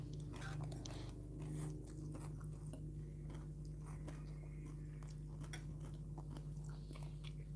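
Someone eating spicy Thai som tam papaya salad at home, with close, quiet bites and wet chewing over a constant background hum of room noise, and no talking.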